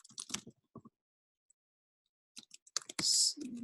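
Bursts of clicking keystrokes on a computer keyboard, close and quiet, in short clusters separated by a long pause, with a louder hiss and rustle toward the end.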